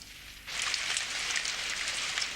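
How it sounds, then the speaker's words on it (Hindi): Rain begins abruptly and falls steadily, a dense close hiss of drops pattering on surfaces that continues evenly without voices. "बारिश हो रही है"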